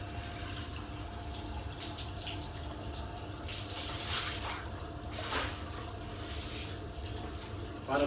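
Water running steadily from a kitchen tap while rinsing during a kitchen cleanup, a faint continuous splashing wash with a soft low hum and small clatters.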